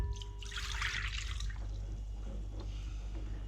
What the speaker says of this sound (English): I'm going to put the milk in first